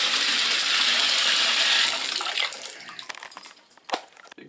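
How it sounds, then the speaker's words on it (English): Water streams steadily into a clogged sink drain with standing water, a loud continuous rushing flow that thins out into sputtering trickles and drips toward the end. "you got water flowing here, but the drain is open and it's standing water"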